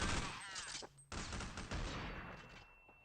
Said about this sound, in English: Yeah, nice flashbang. Hits me from like a few meters out.